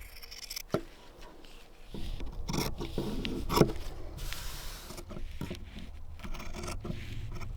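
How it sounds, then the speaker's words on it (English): Scissors cut fabric around a pinned paper sewing pattern piece, giving quiet, close, intermittent snipping, scraping and rubbing sounds with soft handling noise between cuts. "Pin the piece in place and cut around it, but do not cut along the folded side"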